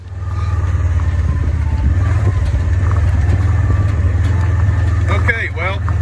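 A farm tractor engine runs steadily at idle, a loud continuous low drone throughout, with a brief voice near the end.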